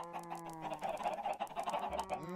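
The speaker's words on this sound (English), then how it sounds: "There's a lot of chickens down there." Several Minecraft chickens clucking in a video game, a quick run of short, honking bird calls repeating through the clip at moderate volume, no talk.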